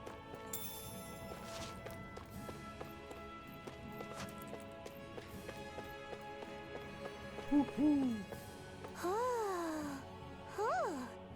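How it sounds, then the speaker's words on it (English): Owl hoots in the game Diablo IV, a few rising-falling calls near the end, fairly close, over a busy game background of footsteps and ambient tones. "I'm surprised there are owls here, too."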